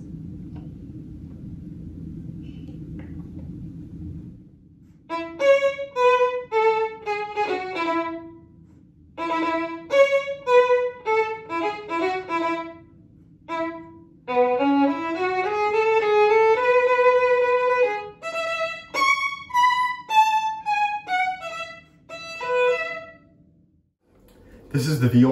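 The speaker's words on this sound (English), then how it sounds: "This is the violin." A four-string violin played with the bow runs through quick detached note runs, gliding passages and sustained tones, clear and close after a few seconds of low rumbling background.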